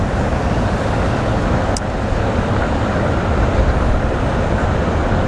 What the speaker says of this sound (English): there was 2 trains